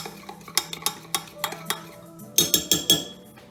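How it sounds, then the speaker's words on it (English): Spoon clinks and scrapes against a pan or bowl while chili powder is stirred into roasted potatoes, a run of sharp close clatters then a louder cluster near the end. "And we are going to stir that in."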